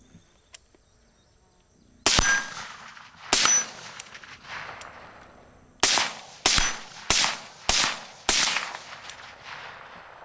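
Rifle shooting at steel targets outdoors, with a 1-6x24 LPVO scope fitted: six sharp, loud shots, two spaced apart and then four in quicker succession, each followed by a brief ringing decay.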